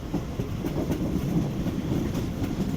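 The Karakoram Express rolls on through dense winter fog between Karachi and Lahore, a steady low rumble of wheels and carriage with faint rhythmic clatter, heard from inside the train.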